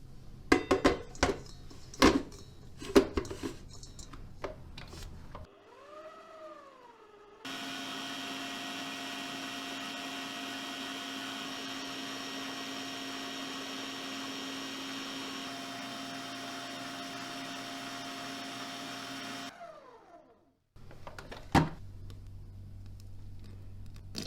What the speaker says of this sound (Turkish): Yumurtamı, şekerimi, bir paket vanilyamı ilave ettim ve harcımız beyazlaşana kadar çırpacağız.